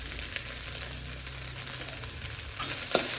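Fried rice with meatballs stir-fried in a pan: a close, steady sizzle with scraping and stirring strokes of the spatula, a brief louder scrape near the end.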